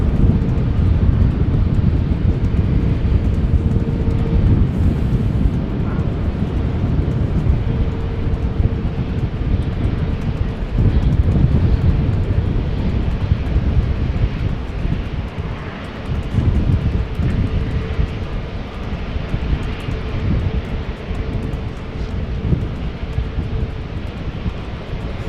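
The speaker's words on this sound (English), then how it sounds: "I think we have an Air Canada, Star Alliance A330, yeah, outbound." An Air Canada Airbus A330 departs Amsterdam Schiphol in wet, windy weather: a steady, broad jet roar that holds loud and even for the whole stretch, mixed with gusty wind buffeting the microphone.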